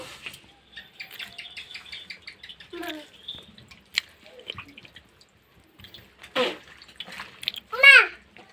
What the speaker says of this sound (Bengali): আমি একটা বাটিতে জল নিয়েছি, শাকগুলো এখন ধুয়ে নেব